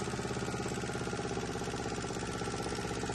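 A struggling engine with a suspected clogged fuel filter idles steadily, a dense, even low rumble with a faint knocking pulse running throughout at moderate distance.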